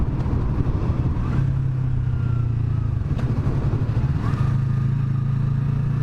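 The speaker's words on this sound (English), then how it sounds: "I'm enjoying riding this bike" A 2017 Yamaha YZF-R3 motorcycle hums at steady cruising speed, a low droning engine note with slight pitch shifts, heard close under constant wind rush.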